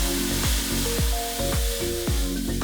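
Water sizzling and spitting in a hot cast iron skillet, a loud close crackling hiss of steam with rhythmic bursts, no voices.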